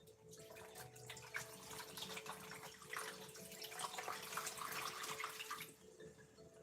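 A pitcher of water is poured into a container to soak dry clay, giving a steady splashing pour that stops near the end. It is quiet and close, over a faint background hum, with no talking.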